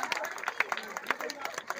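An audience clapping in a hall, a stretch of scattered, uneven hand claps with murmuring voices underneath.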